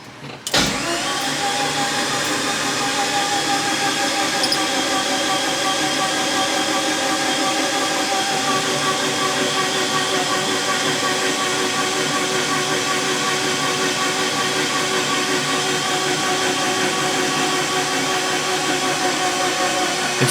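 A Dodge Caravan SRT-4 engine, freshly assembled and installed, starts after a brief crank and settles into a loud, steady run that continues unbroken throughout, with no talking over it.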